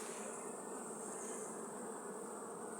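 Dense, continuous buzzing of many Carniolan honeybees at the hive close by, a steady droning hum with no breaks and no voices.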